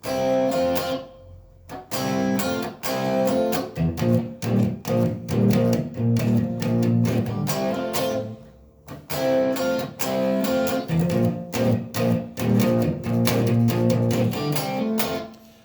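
A guitar riff: choppy, syncopated strummed chords played close and loud, with a brief pause midway before the pattern repeats.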